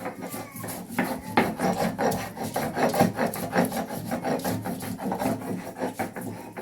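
Mint leaves are ground on a traditional stone slab (shil) with a grinding stone for mint chutney, giving a continuous raspy rubbing and scraping. It moves in steady back-and-forth strokes, close and moderately loud, with no voices.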